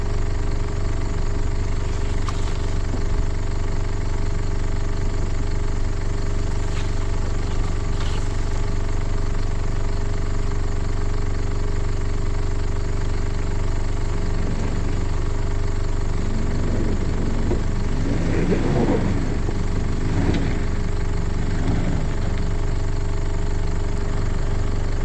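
Steady, loud drone of a Toyota Land Cruiser engine working up a steep 4WD track, a constant low rumble throughout with some rising and falling revs in the latter part and no talk.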